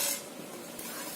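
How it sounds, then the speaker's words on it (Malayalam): Ginger, curry leaves, green chilies, pepper and garlic hit hot oil for a Kerala-style roasted chicken curry, with a loud initial burst settling into a steady, close, hissing sizzle. "നമുക്കിത് എണ്ണയിലേക്ക് ഇട്ട് കൊടുക്കാം"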